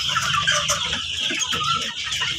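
A flock of broiler chickens, nearly two months old, cluck and chatter continuously in a poultry house, many birds calling over one another at close range.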